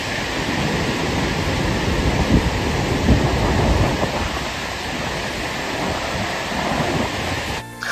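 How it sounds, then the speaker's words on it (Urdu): Roaring, rushing water from a burst dam wall, imagined at Tarbela Dam on the Indus, forms a loud, steady wash of broadband noise with low rumbling surges, continuous for about eight seconds and cutting off abruptly near the end. "پانی شور کرتا ہوا اور گرجتا ہوا آگے بڑھتا ہے۔"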